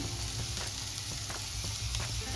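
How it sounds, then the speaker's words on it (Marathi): Lima beans (pavta) roast in a hot pan with a steady, close sizzle and faint occasional stirring scrapes, no voices. "पावटा 3 ते 4 मिनिटं व्यवस्थित भाजून झाल्यानंतर"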